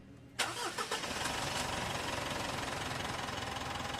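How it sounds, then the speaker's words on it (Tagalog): A Mitsubishi Montero engine, filled with flushing oil after an oil change, cranks briefly and catches, then settles into a steady, even idle close by. "pwede ko na ngayon ipa-start itong makina"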